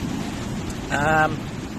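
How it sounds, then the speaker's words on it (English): Rain falls in a steady, soft hiss that continues evenly throughout, while a voice briefly sounds partway through. "And it also started raining."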